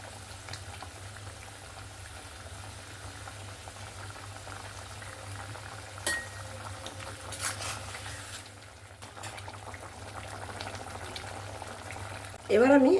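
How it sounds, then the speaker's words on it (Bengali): Mustard-poppy gravy for parshe fish bubbles in a pan with a soft, steady simmering burble, quiet and close, with a few brief clicks and a louder rustle at the very end. "এবার গ্রেভিটা ফুটতে দেব। ঝোলটা এবার ভালোভাবে ফুটে গেছে।"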